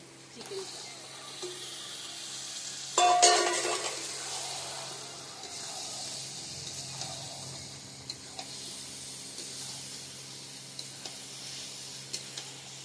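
Marinated chicken dropped into hot spiced oil for biryani, a sudden loud burst of sizzling that settles into a softer steady frying hiss with occasional faint ticks and clinks.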